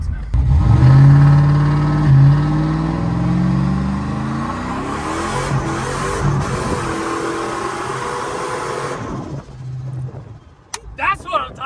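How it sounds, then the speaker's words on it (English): A turbocharged engine in a sleeper car, its turbo hidden in a tool box, revs hard and holds high during a burnout, a loud steady roar that drops away at the end as voices come in. "What if it does burnouts now?"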